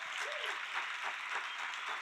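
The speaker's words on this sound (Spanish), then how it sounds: "¿Habrá alguien que pueda aplaudir a Jesucristo?" A church congregation claps together at a Spanish-language service, a brief, full burst of applause with a slightly pulsing rhythm and no speech over it.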